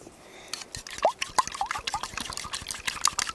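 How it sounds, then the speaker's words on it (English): A fork stirs food with a little sriracha in a single pan at a forest campsite breakfast, giving a run of light wet clicks, drips and soft scraping taps close by over a few seconds. "And then just take my fork."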